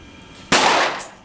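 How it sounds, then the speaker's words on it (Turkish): A single sharp report from a Beretta APX pistol at a shooting range cracks loudly and close by, followed by a short fading decay with no talking. "Tabanca gerçekten çok sakin çalışıyor. Zıplamıyor. Ee, geri tepmesi az."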